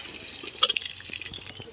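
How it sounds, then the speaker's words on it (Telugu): Water splashes and trickles while someone washes outdoors during a forest cooking session, with a few brief close drips and splashes over a soft background flow. "మనం బయటకు వచ్చినాం కాబట్టి కొన్ని వాటర్ తోనే కడుక్కోవాలి."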